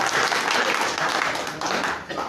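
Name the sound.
audience applause welcoming speaker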